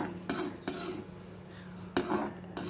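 Metal spoon scraping and clinking against a pan while fenugreek seeds roast, a few sharp strokes spaced about half a second apart over a low steady hum, no talk.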